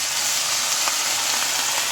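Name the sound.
white wine sizzling as it is added to the hot pan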